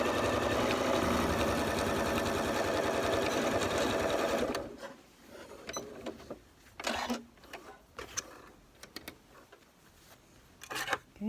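An electric sewing machine stitches fabric Halloween bunting, a fast steady close-up whirr for about four seconds that stops, followed by quieter rustling and handling of the fabric.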